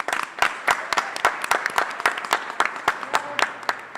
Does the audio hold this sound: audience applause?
yes